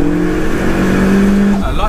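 A 38-year-old Mk1 Ford Fiesta Supersport with bigger brakes and a limited-slip differential, its engine droning steadily up close and then easing off near the end, under people talking inside the car.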